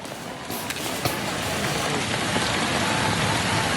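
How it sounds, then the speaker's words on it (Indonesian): Heavy rain pours down in a flooded residential neighborhood, a dense, steady roar of water that stays loud and unbroken throughout, with no voices. "Hujan deras yang mengguyur membuat ketinggian air yang masuk ke permukiman warga terus bertambah."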